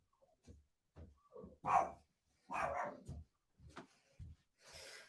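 A dog barks indoors in a series of close, fairly quiet woofs and yips at an uneven rhythm, with short pauses between bursts.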